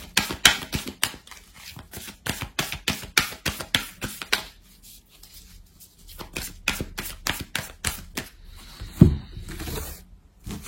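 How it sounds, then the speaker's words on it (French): Oracle cards are shuffled by hand close up in quick bursts of crisp slapping and riffling, pausing briefly midway before the shuffling starts again, with a sharper knock near the end. "pendant que je bats l'oracle"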